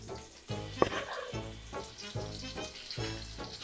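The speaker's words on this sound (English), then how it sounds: "the meat is in there, so we're gonna go ahead and start browning this" Beef browning in melted butter in a pot, a soft sizzle and frying crackle with rhythmic bursts of stirring and one sharp clink, close and quiet.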